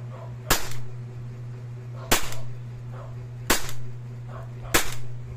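An airsoft Glock 18C G4 pistol fires four sharp, evenly spaced single shots, each a crisp snap with a short mechanical tail, over a constant low hum.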